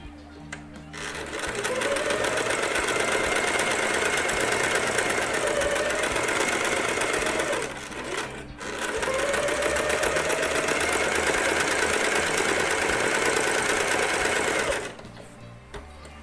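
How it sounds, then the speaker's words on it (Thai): A sewing machine stitches two fabric pieces of a face mask together, running in two long steady bursts with a brief pause between, close and loud with a continuous motor hum and needle chatter. "เย็บต่อให้ผ้าทั้งสองชิ้นติดกันนะครับ"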